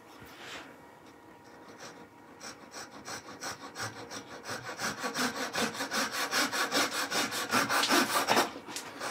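Wood being cut with a small Japanese pull saw, a close steady series of rasping strokes that quicken and grow louder as the cut deepens, with no talking.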